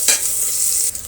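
Onion frying in salted tempering oil for a bottle gourd sambar, a short burst of bright sizzling with a stirring scrape at the start, then a steady hiss that dips near the end.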